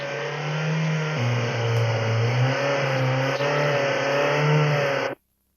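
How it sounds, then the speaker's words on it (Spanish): A Toyota engine with the TCCS system runs in fail-safe mode after its vacuum-sensor PIM terminal is disconnected, holding a loud, steady, close drone with a brief slight dip in pitch partway through. "El motor está marchando en el modo seguridad"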